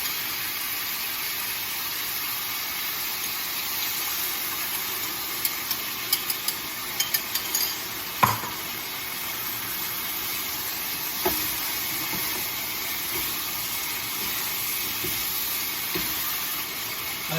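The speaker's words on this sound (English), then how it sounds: "just stir this sauce you prepared" Vegetables with ginger root and green pepper sizzle steadily in a hot wok as a sauce is stirred through to coat them, a constant frying hiss with a few brief clinks and scrapes of the utensil.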